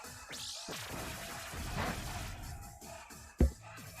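The Pokémon move Submission plays as a game effect: a swooshing rush followed by a sharp, punchy impact near the end, fairly faint overall.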